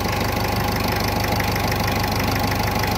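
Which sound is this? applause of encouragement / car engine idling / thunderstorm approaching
car engine idling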